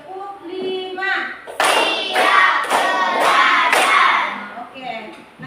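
Schoolchildren in a classroom clap in a series of sharp, rhythmic group bursts, four or five strong beats, with a teacher's voice speaking before and after.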